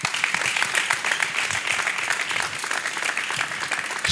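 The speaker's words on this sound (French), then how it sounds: "Quand vous sentez ces applaudissements" A church congregation applauds at a worship gathering, dense, sustained clapping from many hands filling the space, loud and continuous with a little crowd noise.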